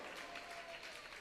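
An audience applauds in a short, faint burst of dense clapping lasting just over a second.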